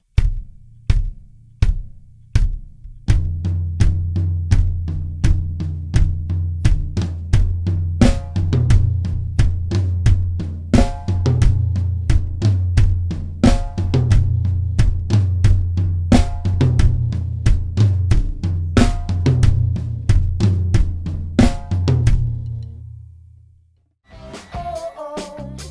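A full drum kit groove, with kick, snare flams and a quick sixteenth-note hit on the medium tom. It plays steadily and loudly without talk, then cuts to a brief gap before one final hit.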